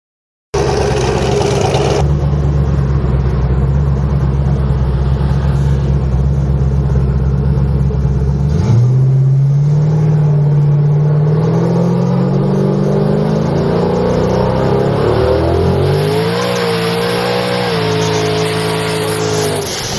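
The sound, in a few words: 1500whp Camaro doing a tire burnout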